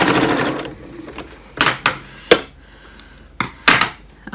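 Sewing machine stitching a coin purse, short bursts of rapid mechanical clatter separated by pauses, close and fairly loud, with sharp knocks as the fabric is repositioned.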